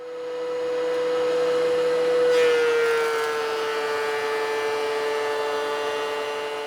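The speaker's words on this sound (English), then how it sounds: "Now I've got to plane the other side of each one of those pieces." A power planer running on recycled wood boards gives a steady, loud electric whine, with a short rise in pitch and cutting noise near the middle before it settles back to an even drone.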